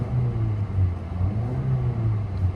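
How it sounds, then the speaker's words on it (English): A 2010 Ford Fiesta engine idles with a low rumble and gets a couple of quick, modest revs, the note lifting and falling in short pulses, heard close from inside the car. "Let's give it a quick rev."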